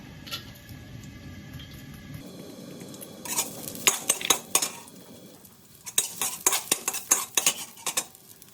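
Bird's eye chilies and minced garlic in a little oil in a wok for a Thai stir-fry give a low sizzle, then loud metal spatula clanks and scrapes in quick irregular bursts.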